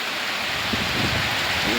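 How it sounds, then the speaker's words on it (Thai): Heavy rain falls in a dense, steady roar over fields, loud and continuous throughout, with no distinct drops standing out. "ฝนตกครับ ฝนตกนักมากเลยครับ"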